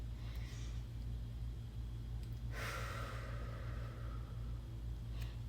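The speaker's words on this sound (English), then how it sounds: "Take a deep breath." A single deep breath, drawn in close to the microphone and let out slowly, rising for about half a second over a steady low electrical hum.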